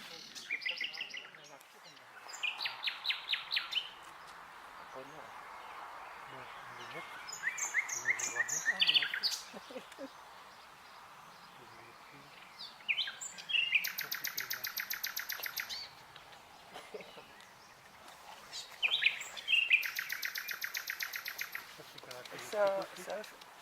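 Birdsong in the Belgian countryside: repeated bursts of bright, rapid chirping trills, several distinct phrases separated by short pauses, fairly close and clear over a quiet background, with no talking.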